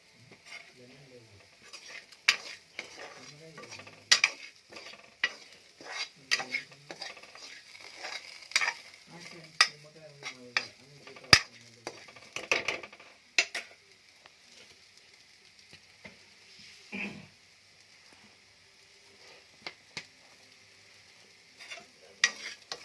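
Food sizzling and frying in a pan while being stirred, with repeated scraping and clinking of a utensil against the metal in irregular bursts, close and fairly loud throughout, no talking.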